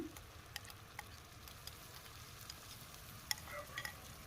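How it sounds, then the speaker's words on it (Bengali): A spatula stirs curd mixed with fennel powder and Kashmiri chili into fried potatoes for Kashmiri dum aloo, a faint quiet sizzle with scattered soft scrapes and taps against the pan. "দিয়ে খুন্তির মাধ্যমে একটু নেড়ে দেব প্রথমে"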